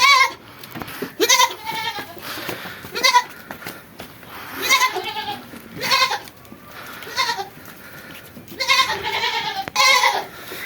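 Goats bleating repeatedly in a farm setting, several loud close calls at irregular intervals, with someone talking in between and low background noise.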